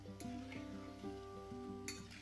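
Jackfruit seeds sizzle and fry in a pan with a steady crackling hiss, close and continuous, as a utensil occasionally stirs them.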